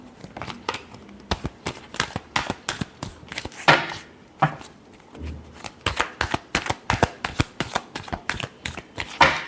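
Tarot cards are shuffled close up in a rapid series of crisp riffling slaps and flicks, with short pauses between bursts and no talking.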